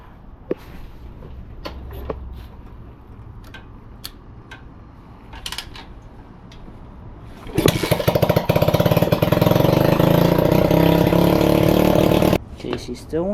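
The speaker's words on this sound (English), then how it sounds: "Okay, she still wants to rev up on her own, which tells me there's an air leak somewhere." Old pit bike engine with an air leak, idling quietly with scattered clicks, then revving up on its own to a loud, sustained buzzing roar before dropping back.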